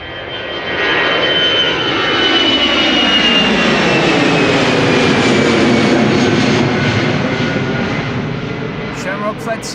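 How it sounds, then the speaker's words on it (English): A jet airliner, Shamrock flight 605 bound for Dublin, departs Amsterdam Schiphol, its engines roaring steadily and loudly for the whole stretch, swelling slightly midway before easing off near the end. "Shamrock flight 605 to Dublin, Ireland, underway"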